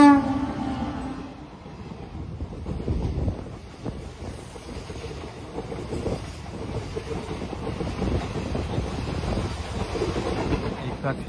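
Udhna Junction superfast express rushing past at a railway crossing, a brief horn at the start giving way to a loud continuous rumble and clatter of wagons, with wind buffeting and faint voices.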